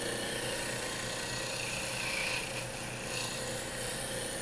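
Turning tool cutting a wood spindle on a lathe, a steady hissing, rasping shave over a constant motor hum, moving slightly as the tool runs back and forth.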